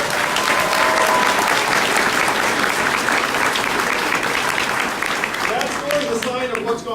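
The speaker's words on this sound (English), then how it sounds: "Let's give him a round of applause." Loud, sustained applause from a town hall audience in Las Vegas, a dense wash of clapping that runs nearly the full length and thins slightly toward the end, with cheering and voices mixed in.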